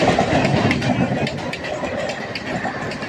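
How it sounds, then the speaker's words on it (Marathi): A fast train passes close by, its loud rumble and rhythmic clickety-clack of wagons running over rail joints filling the whole stretch without pause. "आता दुसरी ट्रेन बघा"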